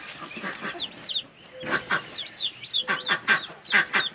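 Newly hatched chicks chirp in a bunch of bright, high peeps, irregular and close, some overlapping in quick bursts, with low handling noise underneath.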